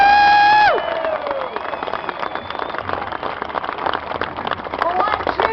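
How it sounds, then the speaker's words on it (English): An audience applauds Senator Kay Hagan of North Carolina at a gathering in Washington, a dense, steady wash of clapping that rises after a brief musical tone and continues evenly to the end. "a round of applause for Senator Kay Hagan from the great state of North Carolina"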